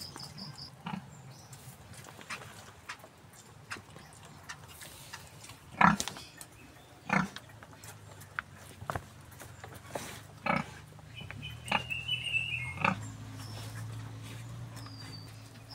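Soft, low grunts from a young pet pig, scattered and fairly quiet, with occasional shuffling and thumps around it and an insect-like chirping in the background.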